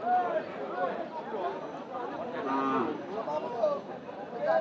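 A calf or cow lowing at a cattle market, several drawn-out moos close by amid a busy crowd murmur and people talking.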